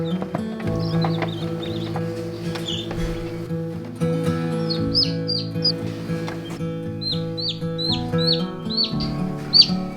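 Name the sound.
newly hatched chicks chirping in brooder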